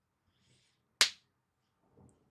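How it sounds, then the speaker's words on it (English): A small child gives a single sharp hand clap, close and crisp in an otherwise quiet room, followed by a faint rustle shortly after. "My little boy comes in and gives us a little clap"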